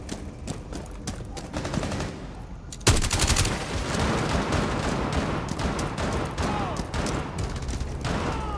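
Gunfire in Rainbow Six Siege during a team deathmatch hostage round, crisp single shots first, then sustained loud automatic bursts close by, with players talking over the action.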